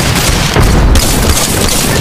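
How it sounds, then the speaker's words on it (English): A grenade explodes in the battle-royale shooter Apex Legends, a loud, dense boom that swells briefly in the middle of continuous rumbling game noise. "Grenade deployed."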